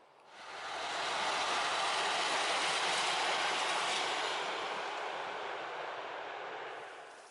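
A train passes close by, a loud sustained roar of rail cars and wheels on track that swells quickly, holds steady for several seconds and then fades.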